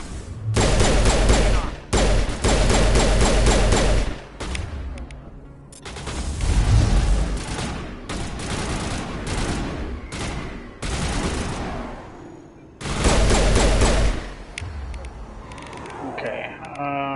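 Pistol gunfire in the sci-fi shooter Mass Effect, firing in dense loud bursts that cut in and out over about seventeen seconds, mixed with other combat sounds and game noise.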